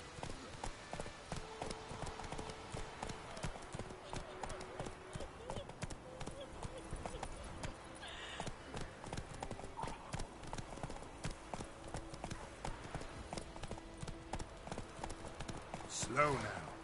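Steady clip-clopping of Roach the horse's hooves in The Witcher 3, a continuous rhythmic trot with game music and ambience underneath and a louder flourish near the end.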